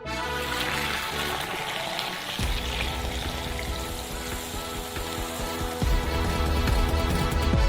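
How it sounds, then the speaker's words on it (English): Freshly boiled coffee, taken off the stove, is poured through a sieve into a large glass, a continuous splashing, bubbling trickle with a couple of heavier gushes partway through, close and alone without talk. "the coffee is already boiling, so we remove it from the stove and pour it into the large glass"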